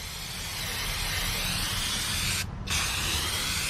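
Aerosol brake cleaner sprays hard and continuously onto a greasy wheel, a loud close hiss that breaks off briefly near the end before resuming.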